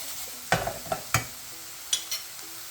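Palm sugar in a sweet tomato sauce sizzles and caramelizes in a pan over medium-high heat, a low, quiet fizz broken by a few sharp spoon scrapes and stirs.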